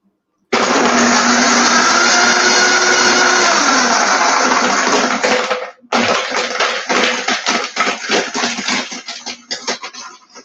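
A Vitamix blender roars at full power for several seconds, cuts out briefly, then restarts with choppier, pulsing blending as contents knock around the jar, loud and close with no talking.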